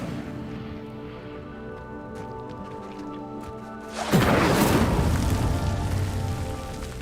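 An Incendio fire spell lights a pyre in Hogwarts Legacy: after several seconds of soft, hissing ambience, a sudden loud whoosh of flame bursts in and keeps roaring and crackling steadily to the end.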